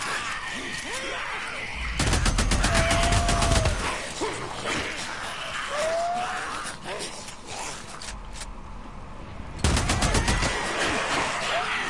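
Rapid bursts of automatic gunfire rattle in the video game Days Gone, with one long volley early on and another near the end. A player talks between and over the shots.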